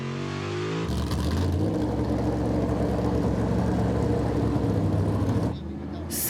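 A NASCAR stock car roars loudly around the Fuji Speedway circuit, its engine note a steady, powerful blare for several seconds after brief talk at the start, then fading back.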